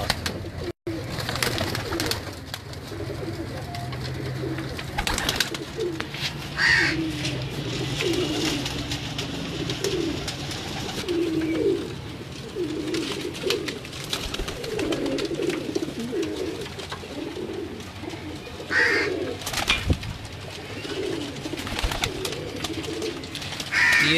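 Salara teddy pigeons coo in repeated soft, low, rolling calls, fairly close, over a busy background with a few sharp knocks and a brief higher bird call, no speech.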